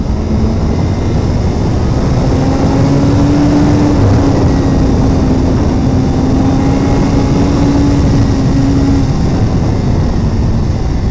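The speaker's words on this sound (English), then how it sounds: "Nice firm, crispy shift there down from 3rd to 2." A 2017 Suzuki GSX-R1000R sportbike engine roars loud and steady at close range, its droning tone holding level through a downshift from third to second gear, with heavy wind rush underneath.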